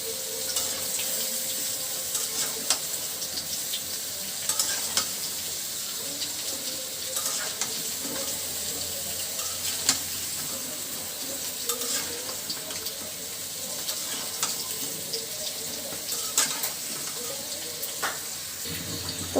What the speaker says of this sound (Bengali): এখন এর ভিতরে দিয়ে দিচ্ছি ধুয়ে রাখা লাউগুলো। মশলার সঙ্গে লাউটা খুব ভালোভাবে আমি মিশিয়ে নিব।